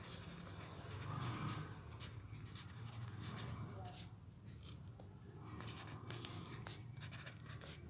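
Pen writing a math formula on paper or a board during a Class 9–10 math lesson, a steady close scratching that runs throughout beneath a voice explaining.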